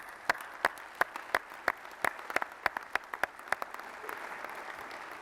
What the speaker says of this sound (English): I'd just like to give everybody a round of applause.